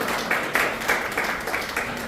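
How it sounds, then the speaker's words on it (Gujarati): A crowd at a Good Samaritan award ceremony applauds in a steady, dense patter of many hands clapping at once, fairly loud and continuous throughout. "આપણે તેનું અભિવાદન તાળીઓથી પણ કરીશું."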